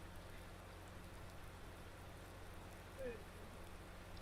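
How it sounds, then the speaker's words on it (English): Steady rain falls in a farming video game, a soft, even hiss of drops that continues throughout at low volume, with a brief faint tone near the end. "it's raining in game"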